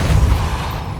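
A Depulso force spell from the Hogwarts Legacy video game hits as a short, powerful booming thump that fades slightly toward the end of its one-second span.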